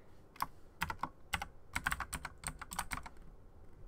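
Keys clatter on a computer keyboard in irregular quick runs and single taps as a chat message is typed, near and clear, no talking.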